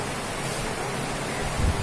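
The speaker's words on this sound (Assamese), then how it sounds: "ইমান বৰষুণ দিছে নহয় বহুত বৰষুণ ইফালে" Steady, dense broadband hiss of heavy rain pouring continuously, with a brief low thump near the end.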